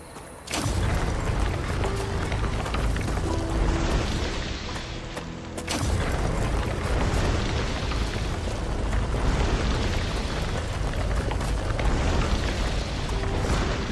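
Meteors crashing onto the planet Arcadia 7 after a deadly fire wave from the Rupture star in a video game, a sustained roaring rumble of explosions with a sharp crash midway, loud and continuous.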